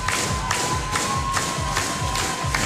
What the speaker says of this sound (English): And this crowd is just pumping.